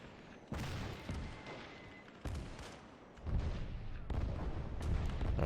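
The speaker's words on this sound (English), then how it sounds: "I think we're going to need more naval artillery." Naval artillery bombardment during the 1945 Iwo Jima invasion in a video game: a string of heavy booms and blasts, about five loud impacts in quick succession over a rumbling background.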